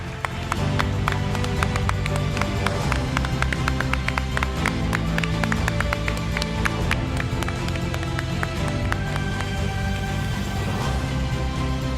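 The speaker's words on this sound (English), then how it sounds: "I think the clapping should continue." An audience at a corporate summit claps for award winners, a steady, dense patter of many hands sustained throughout at an even level over a low hall murmur.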